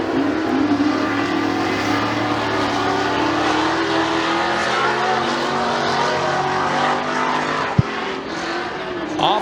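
Pure stock race cars roar around the dirt oval at McKean County Raceway, a loud sustained engine drone with rising and falling revs as the pack passes, plus one sharp bang near the end.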